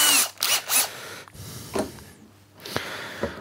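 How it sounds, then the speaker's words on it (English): Power drill with a small bit boring a pilot hole in wood for a wooden boot rack, short whirring bursts starting and stopping close by, with breathy handling noise between them. "Small drill bit, just to work as pilot drill."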